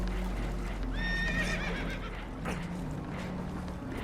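Spooked horses whinny on a damaged boat in Red Dead Redemption 2, one clear high neigh rising and falling over a steady engine-like hum, with brief knocks and clatter afterward.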